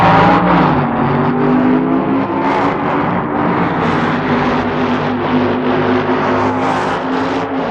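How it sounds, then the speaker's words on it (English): Two Competition Eliminator drag racing cars with single 4-barrel carburetors and automatic transmissions launch side by side in a 1975 heads-up run, their engines roaring loud and close in a sustained, rising, wavering howl without a break. "Both cars utilizing one 4-barrel carburetor and an automatic transmission, as they're now on the line in a heads-up run for Competition Eliminator"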